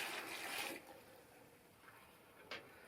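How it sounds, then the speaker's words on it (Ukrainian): A litre of warm water pours in a broad rushing splash onto mushroom pieces for under a second, then fades to quiet, with a brief faint splash near the end. "просто заливаю літру теплої води"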